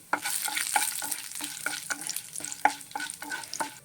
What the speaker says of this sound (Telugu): స్టవ్ మీడియంలో పెట్టుకుని వేపుకోండి, చాలా బాగుంటుంది, బాగా వేగుతాయి.